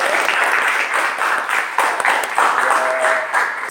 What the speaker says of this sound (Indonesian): Mari kita beri tepuk tangan untuk Pak Filan.